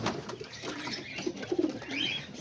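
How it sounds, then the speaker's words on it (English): Domestic pigeons coo softly in a loft with their young nearby, low throaty calls rising and falling, with a brief flutter of wings and a faint chirp toward the end. "I ended up giving them to my other pigeon right here, my Grizzles"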